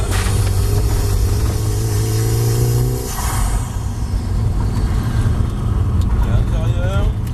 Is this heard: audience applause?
no